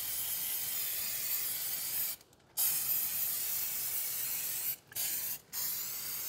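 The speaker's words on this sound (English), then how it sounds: "we're just gonna spray all these seams where there's double metal and there could be rust in between" Aerosol rust converter hisses steadily as it is sprayed into the double-metal seams under a DeLorean, in long continuous bursts broken by a few brief pauses, close and fairly loud with no talking.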